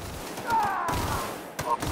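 Gunfire bursts in the video game The Outer Worlds, a couple of sharp cracking shots with a whining tone between them, loud and close amid game noise, with a voice speaking.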